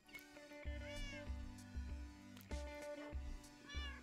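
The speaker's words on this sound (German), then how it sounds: "Ich glaube, die weißen Katzen nehmen hier langsam Überhand." Cats meowing in the Minecraft video game, with several high, wavering mews overlapping one another in quick succession, close and clear, over a steady low game hum with no talking.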